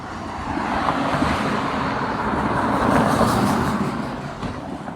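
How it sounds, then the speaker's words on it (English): Busy street traffic with many cars passing, a dense, continuous roar of engines and tyres that swells and then eases slightly, with no voices over it. "Lots of cars, lots of cars."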